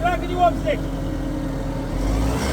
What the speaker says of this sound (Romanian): Dăm drumul la motoare.